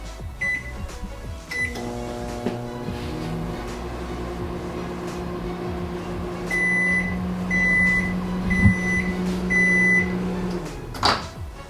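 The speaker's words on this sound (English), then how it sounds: "put it into the microwave for less than like 10 seconds" Microwave oven heating a reusable ice pack: a steady mechanical hum runs for several seconds, with beeps at the start and a series of loud completion beeps near the end, followed by a door clunk.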